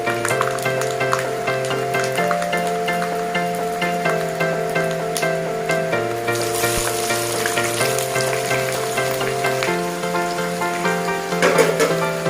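Chopped shallots and dried red chilies sizzle in hot oil with popped mustard seeds for a chicken sambar, a loud steady frying hiss with a constant tonal hum beneath and occasional stirring noises.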